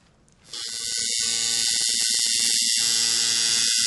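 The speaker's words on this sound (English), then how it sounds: "If you'll notice, the sound of the machine is very consistent. It doesn't fluctuate like this." A tattoo machine kicks on after about half a second and then buzzes at a steady, unwavering pitch, close and loud, with no talking.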